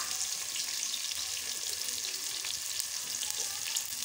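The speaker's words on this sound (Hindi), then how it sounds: "इधर हमारा ऑयल जो है वो गर्म हो चुका है, इसके अंदर जाएंगे हमारे जो हमने प्याज काटे थे वो" Chopped onions frying in hot oil for aloo chicken give a steady, dense sizzle with crackling spits throughout, close and continuous with no talk.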